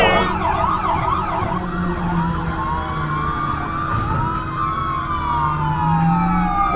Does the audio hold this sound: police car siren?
yes